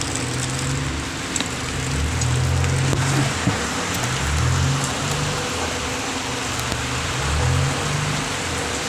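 Rain pouring down during an outdoor shower, a dense steady patter with occasional louder drops and a low rumbling hum underneath, continuous and fairly loud.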